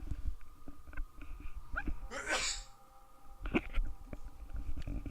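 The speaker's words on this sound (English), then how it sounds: "I'm going to sneeze" A single sharp sneeze bursts out midway, loud and close, set against a quiet indoor background with faint game sounds.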